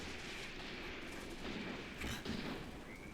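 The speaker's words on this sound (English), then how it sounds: "Good shooting from both sides." Distant gunfire and artillery rumble on and off in a World War II tank battle video game, a faint, continuous crackle of shots with a few heavier booms.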